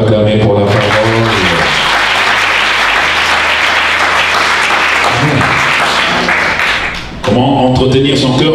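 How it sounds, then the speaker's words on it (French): Sustained applause and cheering from a church congregation at a deliverance seminar, loud and continuous for about seven seconds, with music-like tones and a voice resuming at the end. "Est-ce que quelqu'un peut acclamer pour la parole?"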